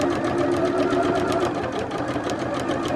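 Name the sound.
sewing machine stitching a quilt seam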